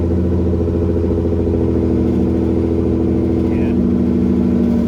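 A Nissan 350Z fitted with Motordyne Art Pipes exhaust and a Megan Y-pipe holds a steady, loud, deep rumble at close range for the whole stretch, with no voices.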